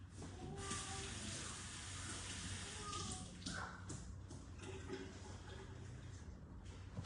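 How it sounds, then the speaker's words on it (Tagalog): Water runs steadily from a tap over bok choy being washed in a sink, a constant close rushing hiss with faint handling noises and clinks. "Hugasan na natin itong bok choy."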